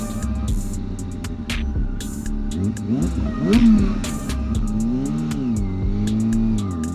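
Motorcycle being ridden after a teardown and reassembly, its engine droning steadily with rising and falling pitch as the throttle changes, plus wind rush and intermittent clicks throughout.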